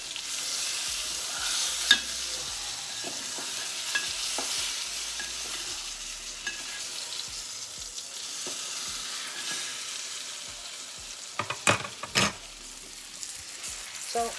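Cod fillet pan-frying beside seasoned asparagus, a continuous soft sizzle close by with scattered spatula scrapes and a cluster of sharper clicks and knocks near the end as the fish is flipped, no talking.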